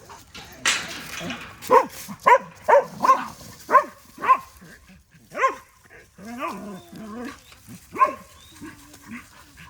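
Dogs bark repeatedly while running loose outdoors on a mountain hike, a close, loud run of sharp barks with short gaps, some whining yips in between.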